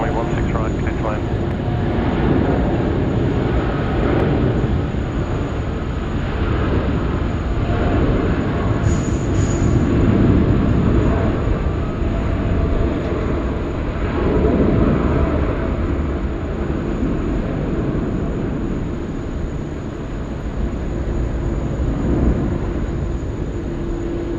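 An Air New Zealand airliner lands at Sydney Airport on runway 16 right in a 20-knot wind, a loud, continuous engine roar and rumble that lasts throughout, heard from nearby with voices talking over it.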